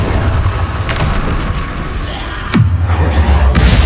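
In the Hogwarts Legacy video game, a Bombarda blasting spell goes off with a loud, sudden boom partway through, followed by a deep rumbling tail over continuous game noise.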